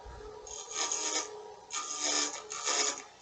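A small glazer tool rounds over a spinning wooden finial on a lathe, giving three short close rasping scrapes separated by brief pauses.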